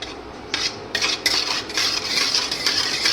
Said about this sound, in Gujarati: હવે આપણે આમાં રવો શેકવાનો છે, અને ધીમી આંચે શેકવાનો